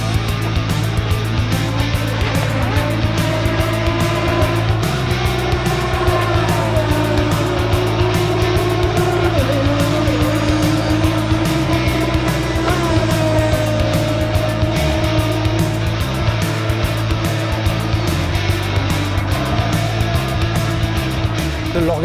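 A radio-controlled racing boat motor spinning at around 20,000 rpm keeps up a constant high-pitched buzzing whine for over twenty seconds, loud and steady with slight pitch wavering, over outdoor background noise at a model boat racing event.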